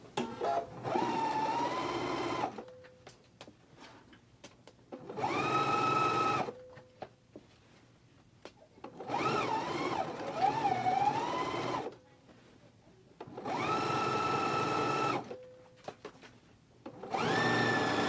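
A sewing machine stitching a seam on a pair of pants sews in several whirring bursts of a few seconds each, separated by quiet pauses, close and steady.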